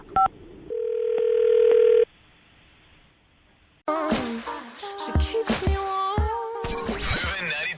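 Phone call being placed: a brief dialing blip, then one steady ringback tone about a second long, a pause of near silence, and a busy burst of bright electronic tones and jingle-like sounds.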